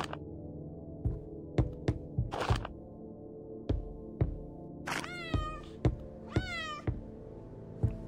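A cat meows in an indie horror video game set in an apartment, a few drawn-out, rising cries near the end, after a run of sharp thuds and knocks, with no talking.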